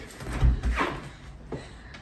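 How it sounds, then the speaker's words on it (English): A door opens with a short thump and a scrape, followed by a softer knock, close by in a home. "Hold on, it's the door."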